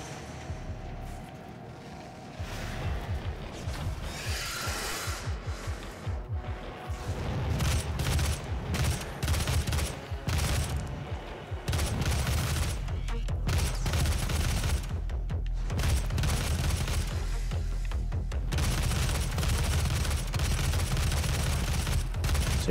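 Gunfire rings out in the DOOM video game, with repeated loud shots and bursts over a continuous game soundscape, close and dense throughout.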